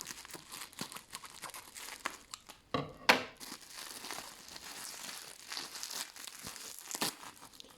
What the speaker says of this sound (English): Once again, this guy loves sellotape